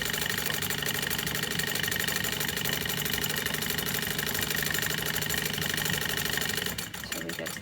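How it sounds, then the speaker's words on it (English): An electric sewing machine stitches fabric for a face mask, a fast continuous mechanical whir with rapid needle clatter, steady and close, before a brief shuffle of handling near the end. "And we continue sewing"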